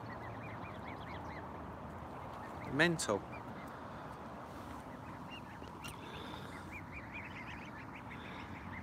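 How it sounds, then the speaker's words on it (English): Geese and goslings by a lake at Farlows, with a short burst of honking and quacking midway over a steady outdoor wash; someone speaks briefly. "there's even more geese now"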